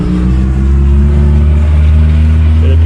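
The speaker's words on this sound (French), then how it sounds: "Il n'y a plus de pot d'échappement." A car engine revs loudly with its exhaust pipe missing after the vehicle struck a gateway pillar, giving a steady, rough, close drone that holds throughout without talk.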